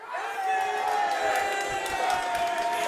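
An esports arena crowd at a League of Legends EU LCS match cheers and whoops loudly and steadily, a dense roar of many voices filling the space for a few seconds.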